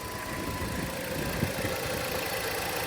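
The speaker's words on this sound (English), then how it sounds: "Let's take a look at the engine bay while it's running." A 2014 Jeep Compass with a rebuilt title, its engine idling with the bay open, giving a steady, even hum and broadband whir with no shaking or misfire, heard close up and continuous.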